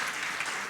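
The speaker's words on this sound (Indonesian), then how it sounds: "Berikan tepuk tangan meriah buat Tuhan kita." A congregation at a church service claps together in a brief, dense burst of applause, close and steady for under a second.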